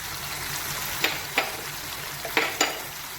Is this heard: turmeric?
yes